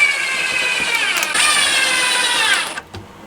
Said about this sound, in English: What I'm doing now is I am screwing on a bit of batting so I have something to attach the cladding